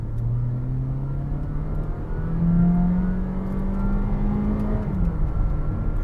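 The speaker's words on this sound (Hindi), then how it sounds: "अब ज़रा तैयार रहें और भाईजान ज़रा जूम कर लें ताकि हम इसका 0 to 100 देखें कि किस तरह देती है।" A 2019 Honda Vezel Hybrid SUV accelerates hard from 0 to 100 km/h. Its steady, close engine-and-motor whir climbs gradually in pitch and holds loud and continuous throughout, with no talking.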